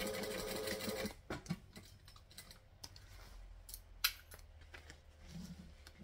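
A sewing machine tacks the tabs at the top of a zipper for a Beachcomber bag, opening with a steady close run of stitching for about a second, then falling to sparse clicks and handling noises.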